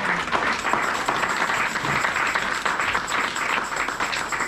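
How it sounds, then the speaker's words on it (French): A church congregation at CERR Toulouse in France breaks into sustained, dense applause from many hands, even and continuous throughout. "On acclame pour la parole de l'Éternel"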